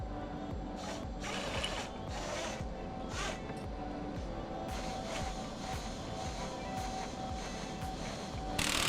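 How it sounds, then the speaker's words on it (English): Spring compression tool at work swapping shock springs on a RZR Turbo R, giving a steady run of close ratcheting, clicking mechanical sounds throughout with faint metallic clinks. "With the spring compression tool ready for action, we started the process of swapping out springs"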